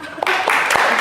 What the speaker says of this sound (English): But give us a real clap.